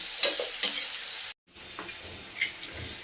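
Bitter gourd slices with onion fry in a pan, a steady close hiss broken by a couple of sharp stirring scrapes, a brief dropout, then quieter sizzling with another scrape.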